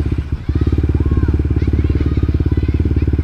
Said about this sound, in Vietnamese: không có xe zin nào mà nổ máy lên nó nghe vậy nè